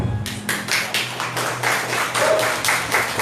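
A church audience claps in a quick, even rhythm, a short burst of close hand claps with no talking over it.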